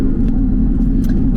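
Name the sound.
Porsche with SCART exhaust, valves open, engine rumbling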